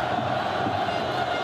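Dense roar of a football stadium crowd at a Jordan versus Uruguay playoff match, a sustained wall of cheering and chanting that holds loud and steady throughout.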